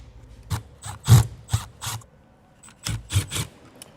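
Screws being driven in by hand while mounting an RV backup camera: a series of short ratcheting, grinding bursts in two clusters with brief pauses between, close and fairly clear, with no talk.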